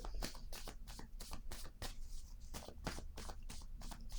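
Tarot cards shuffled close up, a quick rhythmic series of crisp riffling bursts repeating steadily, soft and alone with no voices.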